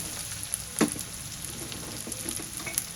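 Onion, pigeon peas and green peas sauté in a pan with a close, even sizzle, broken by a couple of sharp stirring clinks.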